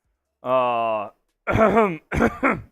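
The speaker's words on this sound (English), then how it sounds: "Let me clear my throat." A low groaning vocal tone followed by two rough, throaty clearing sounds, close and fairly loud, with short pauses between them.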